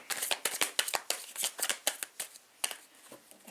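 Tarot cards being shuffled and handled, a rapid run of crisp riffling snaps and flicks close by, at an uneven rhythm, with no voices.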